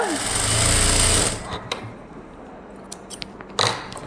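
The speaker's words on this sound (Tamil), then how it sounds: "ரெண்டையுமே டபுள் ஸ்டிச்சு போட்டுக்கோங்க" A sewing machine runs a double line of stitching through a synthetic blouse lining, a loud steady mechanical whir lasting about a second and a half, then stopping, with faint handling clicks and taps afterward.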